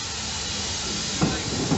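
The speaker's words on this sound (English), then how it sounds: "we've inadvertently arrived at Weybourne station just as there's a train about to depart" A steam train departing Weybourne station on the North Norfolk Railway during a steam gala, a loud, steady hiss of steam filling the clip, with a few heavier chuffs near the end.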